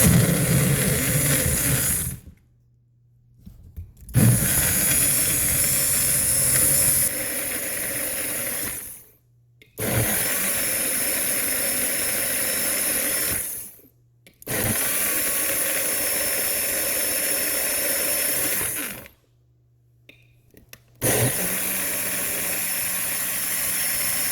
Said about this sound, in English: I'm going to blend this now, and it's gonna be loud.